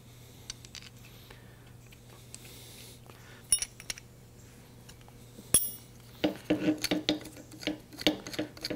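A wrench tightening bolts on the gear assembly of a blacksmith blower in a blacksmith shop, with scattered metallic clinks and ratcheting clicks that grow busier toward the end, over a low steady hum.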